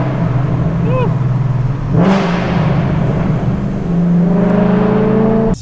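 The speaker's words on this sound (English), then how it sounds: "So my next point has got to be the exhaust. It is so loud." Loud exhaust of a procharged 610 WHP Ford Mustang revving up and down in sustained, rising pulls close by, with a sharp swell around the two-second mark and a final burst at the end; no talk over it.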